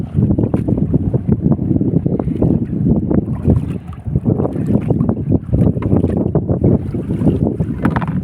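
Strong wind buffeting an outdoor microphone on open water, a loud, constant low rumble of gusty thumps and roaring bursts with no pause, almost no other sound coming through.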